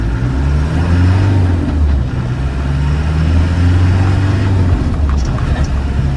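A 1993 Land Rover Defender 90 with a 200Tdi diesel accelerating, a loud steady engine drone rising and settling through gear changes, heard from inside the cab.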